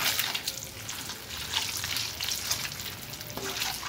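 Eggs and potatoes fry in a pan with a continuous hissing sizzle, steady and close, broken by a few soft stirring scrapes.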